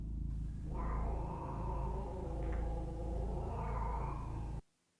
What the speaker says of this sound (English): In one video, Rosanna's cat does this